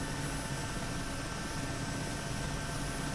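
A Mi helicopter in the DCS flight simulator runs with its engine throttled to idle, a steady whining turbine drone with a low rumbling hum held level and unbroken throughout.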